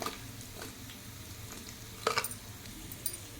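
Asafoetida, curry leaves and turmeric sizzle in hot oil as a tempering for sambar: a steady, soft frying hiss with a few sharper crackles and spatters partway through.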